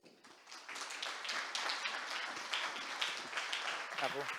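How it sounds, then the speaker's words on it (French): An audience claps after a conference talk on education in an AI-filled world, a quiet, fairly distant patter of applause that swells and holds steady while a voice speaks over it. "Encore une fois, Philippe Nadeau, on l'applaudit."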